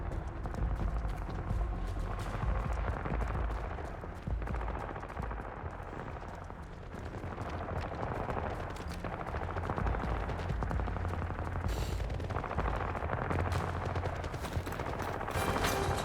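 Automatic Uzi gunfire in the video game First Light, dense rapid bursts of shots crackling steadily throughout with little pause, loud and close amid busy game noise.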